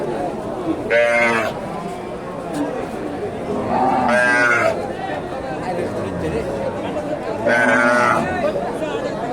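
Cows and calves at a Bogura cattle market give three loud, drawn-out moos at even intervals, with people chatting in the background crowd throughout.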